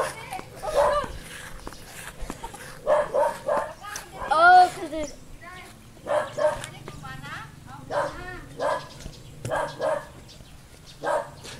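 A dog barks in short repeated bow-wow bursts near a backyard treehouse, nearby and fairly loud, with a few whimpering yips, while people talk over and between the barks.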